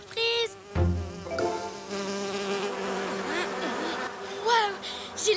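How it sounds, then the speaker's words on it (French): Cartoon flies buzz loudly around a character with a whining, wavering drone that swoops up and down, mixed with musical tones and a brief sharp hit, and short vocal outbursts at the start and end. "Je déteste les choses qui bourdonnent!"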